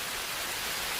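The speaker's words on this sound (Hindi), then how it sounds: "लगता है आज बारिश नहीं रुकने वाली।" Rain falls in a steady, dense hiss with no distinct drops standing out, alone and fairly loud throughout.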